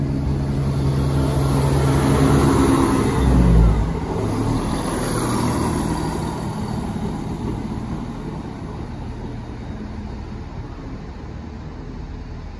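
A Class 170 diesel train departs a station in West Wales, its engine growling loudly up close, then fading steadily into a fainter rumble as it pulls away.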